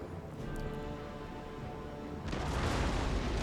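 Cannon volleys from a Napoleon Total War battle, a steady roar of massed artillery fire that swells louder and denser partway through, with no talk over it.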